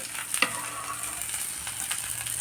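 Chutney with green chillies frying in a pan, a steady close sizzle with a few scraping stir knocks, no talk.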